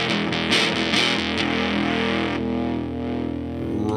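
An electric guitar played on its neck pickup with the tone knob set midway, run through an effects pedal, rings out as loud distorted sustained chords with a chorus-like shimmer, alone without talk.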